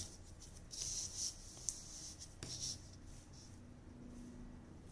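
Pen scratching on paper while working through a Butterworth band-stop filter calculation, faint and close, with soft intermittent strokes and a small tap, and no talking.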